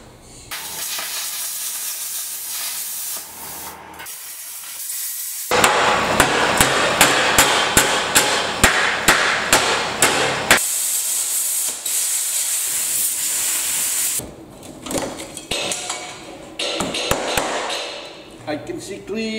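Plasma cutter slicing through rusty metal, loud hissing blasts broken into bursts and rapid pulsing stretches, with sharp clanks between cuts.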